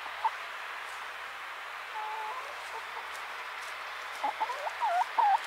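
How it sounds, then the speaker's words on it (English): Chickens in a backyard garden coop cluck in short bursts, with a louder run of clucks near the end over a steady low background hum. "Goofy chicken."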